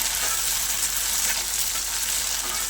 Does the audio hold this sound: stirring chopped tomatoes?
yes